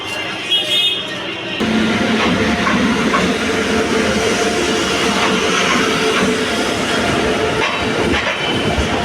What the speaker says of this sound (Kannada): ನಾವು ಹೋಗೋ ಟ್ರೈನ್ ಇದೆ ಬಂತು, ವಿಶ್ವಮಾನವ ಎಕ್ಸ್ಪ್ರೆಸ್.